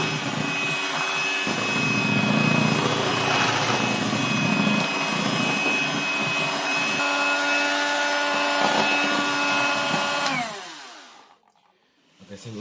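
Electric mixer whirring loudly for about ten seconds while quickly mixing homemade doughnut batter, a steady close drone that cuts off and falls quiet near the end.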